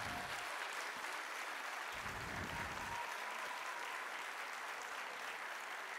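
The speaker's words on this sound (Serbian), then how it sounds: "Ova deca prvi put nastupaju, zato molimo da ih bodrite svojim aplauzima." Sustained applause from a festival crowd for children performing, steady clapping throughout with no pauses, moderately loud and filling the whole stretch.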